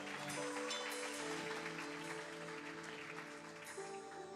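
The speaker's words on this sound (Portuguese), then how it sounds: "Quem pode aplaudir Jesus?" Church congregation applauding during a Portuguese-language sermon, a few seconds of broad clapping with musical tones, likely a keyboard or organ, sustained beneath it.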